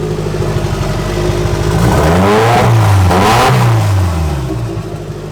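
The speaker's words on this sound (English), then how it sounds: "Oh, you can hear the turbo. That sounds sick." A turbocharged Mazda Miata engine, exhaust unfinished, revs up loudly from idle, rising and falling in pitch with a whooshing turbo character, close by and alone, then settling back down.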